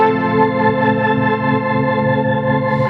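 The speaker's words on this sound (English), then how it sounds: "I have a rotary Z patch on bank 7 that sounds like this." Electric guitar played through a rotary Leslie speaker effect patch on a Zoom G5 multi-effects processor, a loud sustained chord with a swirling, pulsing modulation, heard alone.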